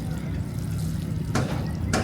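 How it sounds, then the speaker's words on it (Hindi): Water from boiled macaroni is poured off at a camping van in the jungle, a steady close splashing stream running throughout with brief brighter gushes near the end. "पानी इसका गिरा दो, मैक्रोनीस का"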